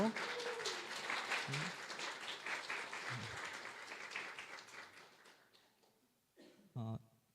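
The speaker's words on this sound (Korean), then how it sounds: "우리 자녀들에게 다시 한번 큰 박수로" A church congregation at a Korean Sunday worship service applauds the children, steady clapping across the room that slowly thins and fades, with a short final burst near the end.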